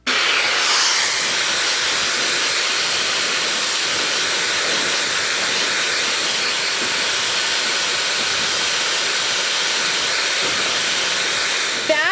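A Shark FlexStyle hair dryer runs steadily at close range, a loud, even airy hiss and whir that holds constant the whole time with no voices over it.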